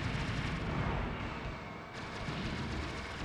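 Bomb exploding in the Aero Fighters arcade shooter: a dense, continuous wash of booming blast noise and rumble filling the whole moment, steady and loud with a slight dip midway, no talk.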